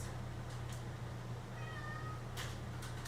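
A kitten gives a single short, high meow in the middle, fairly faint over a steady low hum, with a few soft background clicks and rustles.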